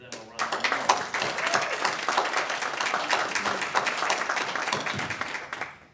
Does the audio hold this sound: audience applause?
yes